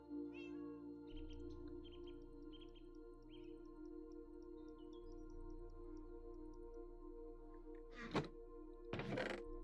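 Two pet cats meow in short bursts over a steady hum of game background music, with a couple of louder thumps near the end; no one speaks.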